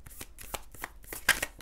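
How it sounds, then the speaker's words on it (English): Tarot cards being shuffled in quick riffling bursts, close and fairly quiet, with a sharper snap near the end. "Why am I still shuffling?"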